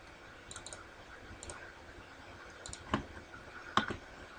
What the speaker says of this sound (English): you can just type it into your calculator